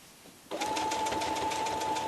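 An electric sewing machine starts abruptly and runs with a steady fast whirring hum and rapid stitch pulses while back stitching fleece patches for a baby blanket, close and alone.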